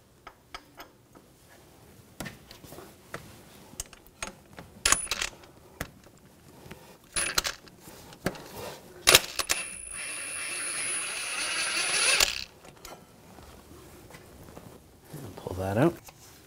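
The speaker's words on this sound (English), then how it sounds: "I'm going to use a M10 triple square socket to take these bolts out" An M10 triple square socket works loose the CV axle bolts on a 2004-2009 Audi A4 Quattro 2.0L, with sharp metallic clicks and clinks, a ratcheting whir and scattered taps, close and moderately loud.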